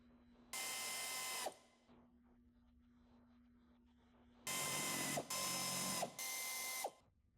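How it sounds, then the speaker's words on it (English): A ratchet tightens bolts with 8mm and 10mm sockets while a ventilation cover is fitted on a 2013-2015 Ford Escape, with one quick ratcheting burst followed after a pause by three more close, crisp bursts. "tighten the bolts with 8mm and 10mm sockets"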